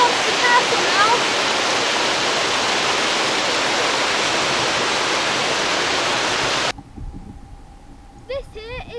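White Lady Waterfall at Lydford, Devon roars as a loud, dense, continuous rush of falling water up close, then cuts abruptly to quiet ambience with a voice speaking near the end.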